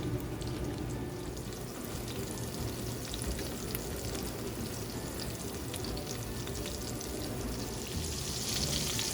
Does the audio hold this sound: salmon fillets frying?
yes